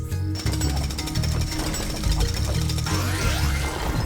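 A construction worker's jackhammer pounds boulders in the LEGO City Undercover video game, a loud rapid hammering that runs in repeated bursts with crumbling debris behind it.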